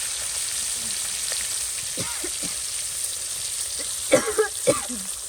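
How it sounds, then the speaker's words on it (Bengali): Hot oil hisses steadily as fish fries, with a short burst of sharp crackles and pops near the end. "তেলটা কিন্তু অনেক গরম হয়ে গেছে তো এখন মাছগুলো দিয়ে দিই"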